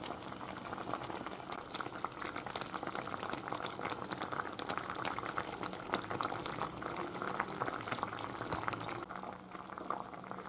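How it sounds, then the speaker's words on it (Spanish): Zamora-style soup bubbles at a steady boil in a pot, a constant close rolling burble with faint pops and no voices. "Ahora esperar a que empiece a hervir"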